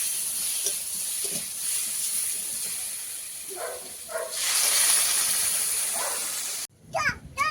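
Water hits a pan of fish curry and throws off a loud, bright hiss of steam midway. Softer kitchen clatter comes before it, and children's voices break in at the end.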